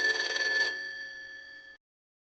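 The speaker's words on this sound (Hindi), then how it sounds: "तभी उसका फोन बजता है।" A phone rings alone in a quiet room, a short, bright electronic trill that is loud at first, then softer and steady before it cuts off.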